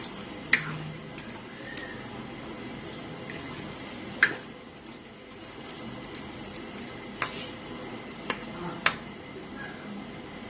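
A spoon clinks and scrapes now and then while potato and minced meat are mixed in a pot for Pakistani aloo keema, over a steady low background, with a few sharp metallic taps.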